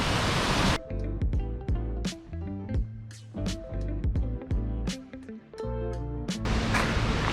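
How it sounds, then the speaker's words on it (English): Steady broadband rush of Three Bears Falls, a set of three waterfalls in Maui, Hawaii, loud at the start and end, with melodic music playing over it through most of the middle. "That was Three Bears Falls. There are three waterfalls."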